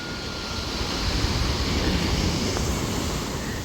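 Sea waves break near rocks on the Tenerife coast, a continuous surf roar mixed with wind buffeting the microphone, steady and fairly loud.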